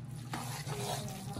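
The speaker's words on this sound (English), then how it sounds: "we have the mozzarella cheese, and we're gonna mix that up" A short, close stir as mozzarella cheese is mixed into a thick spinach artichoke dip, a soft, continuous wet scraping and squelching with no talking.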